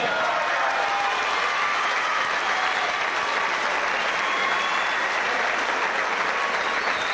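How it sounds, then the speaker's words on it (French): An audience applauds steadily after a full contact kickboxing bout, dense sustained clapping from the crowd at moderate distance, with no voices standing out. "on peut applaudir également Florent Rouleau."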